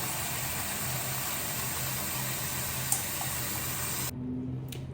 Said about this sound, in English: And then I'm going to fill the sink again and add in some more shampoo.